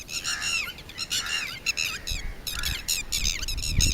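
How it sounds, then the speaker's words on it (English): Birds around a lake on a hot, breezy day give repeated bursts of sharp, chirping calls in quick runs, fairly close and clear, with faint rustling in the background and no talk. "Seeing some birds."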